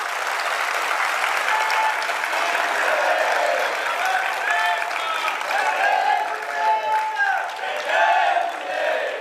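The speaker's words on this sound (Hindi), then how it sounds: "एक बार आप सब मिलके ताली बजा करके बताइए" An audience claps together in sustained, loud applause, with cheers and scattered voices rising through the crowd noise toward the end.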